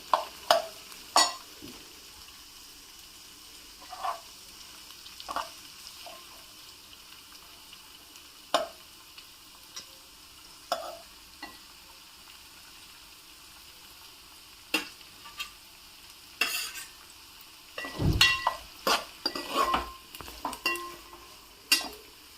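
Cauliflower pieces fry in hot oil for a cauliflower pickle, with a quiet steady sizzle and scattered scrapes and clinks from stirring that cluster into a busier burst near the end, close but soft.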